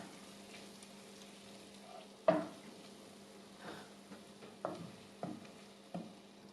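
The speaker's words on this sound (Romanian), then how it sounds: "După un minut punem și boiaua, amestecăm bine și închidem focul." Paprika stirred into a frying roux with onion for a Romanian bean purée: a faint, low sizzle underneath, with a few soft spoon scrapes and taps against the pan spaced through the stirring.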